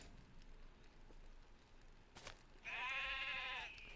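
A single loud sheep bleat from the video game Lord of the Rings Online rings out near the end over a soft, noisy background.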